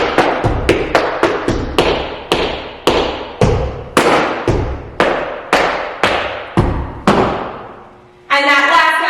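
Tap shoes striking a hard floor in a quick series of about fourteen crisp, sharp taps with a steady, accented rhythm, ending with a short sustained tone.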